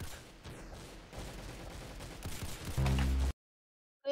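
Shotgun firing in a Roblox video game, a dense burst of loud game gunfire and clatter that builds to a heavy blast before cutting to silence.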